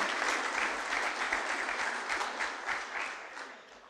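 Sustained applause from a school prizegiving audience, dense crowd clapping that holds steady before tapering slightly toward the end.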